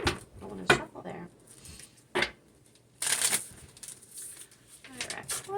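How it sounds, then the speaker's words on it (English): Deck of oracle cards being shuffled by hand, several brisk riffling bursts separated by pauses, close and fairly quiet. "Oracle cards. I want to shuffle there."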